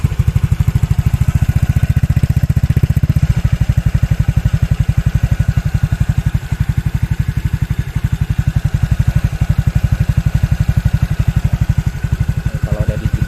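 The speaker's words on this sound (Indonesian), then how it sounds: "knalpotnya juga ini suaranya juga adem ya, nggak terlalu berisik" A modified exhaust on a 2020 Honda Beat scooter idles close by with a steady, even putter that is fairly mellow and not loud, running continuously with a slight change in tone after the first few seconds.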